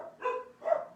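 Dogs barking indoors in a home kitchen, two short bursts of barks about half a second apart, moderately loud and close, with no talk over them.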